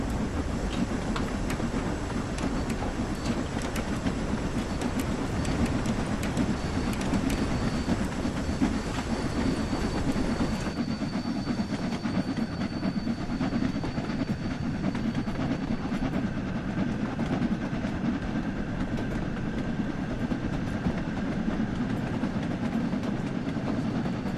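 Flying Scotsman steam locomotive running in the Train Sim World video game, a steady rumbling rail roar with clicking wheels that carries on loud and unbroken throughout, with no voices.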